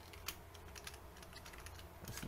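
Python code is typed on a computer keyboard in a quiet room, producing a soft, continuous patter of keystrokes with one sharper tap near the start and denser clicking at the end.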